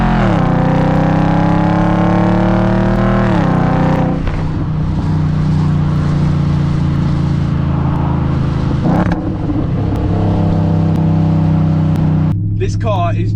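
An Audi S5 engine revs hard and climbs repeatedly in pitch, loud and close, dropping back and rising again before a brief cut near the end.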